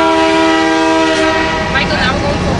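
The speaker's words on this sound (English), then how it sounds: "The motor's going to catch up first." A CN Rail ES44DC diesel locomotive in cab, its engine droning loudly and steadily with strong tonal hum that shifts as it powers up, a faint horn-like tone fading midway.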